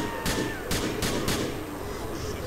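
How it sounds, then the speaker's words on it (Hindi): Four sharp gunshots crack out at a steady pace during a GTA 4 police chase video game, loud and close, then trail off into a busy game background with no talking. "ओए गोलियाँ मुझे पहले चलनी शुरू हो गई"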